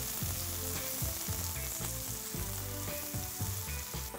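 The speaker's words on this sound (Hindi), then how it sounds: "हल्का सा चलाएंगे और फिर स्प्रिंग अनियन बल्ब, ये स्लाइस किया हुआ, इसे भी हल्का सा सौते करेंगे।" Chopped garlic and sliced spring onion bulb sauté in hot oil in a wok, a loud steady sizzle with bursts of stirring and scraping throughout, close up and without voices.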